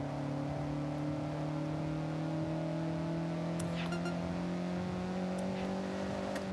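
A car engine in Forza Horizon 6 revs and whines through a power-based oversteer, a loud steady drone with rising and falling pitch held throughout, with a few faint clicks.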